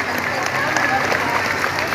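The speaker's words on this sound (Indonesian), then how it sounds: "Boleh sekali lagi tepuk tangan untuk menyemangati beliau." Steady audience applause fills the space for a couple of seconds, a dense, even wash of many hands clapping at a religious talk gathering.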